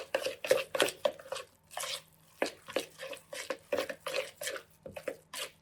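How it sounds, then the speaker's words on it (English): Meatball ingredients being mixed thoroughly by hand in a bowl: a steady run of soft, wet squishing and light knocks against the bowl, repeating in an uneven rhythm, close up, with no voices. "we're just going to mix this really thoroughly to get all of those ingredients dispersed well"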